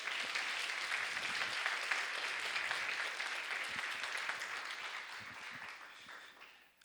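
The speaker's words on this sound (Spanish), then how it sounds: "¿Cuánto le dan un aplauso al Señor por eso?" A church congregation breaks into dense applause that holds steady for several seconds, then thins out and fades near the end, with no talking over it.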